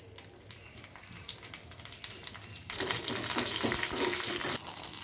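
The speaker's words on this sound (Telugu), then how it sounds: "ఆయిల్ వేడెక్కిందండి తాలింపు గింజలు వేసుకుందాం" Tempering seeds tossed into hot oil in a pan, a quiet start with faint crackles that breaks into a loud, continuous sizzle for the second half.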